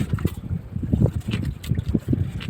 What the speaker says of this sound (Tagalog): Ayan, nagsisimula namang humangin.